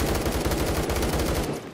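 Rapid automatic gunfire in the Roblox shooter Phantom Forces, a dense, loud burst of continuous shots with no pause.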